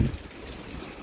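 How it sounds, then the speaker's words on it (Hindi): Heavy rain pours steadily onto a rooftop garden of potted plants, making a dense, even wash of hiss and patter with no pauses. "यहाँ पर भी आपको दिखाई देगा बारिश बहुत तेज़ है"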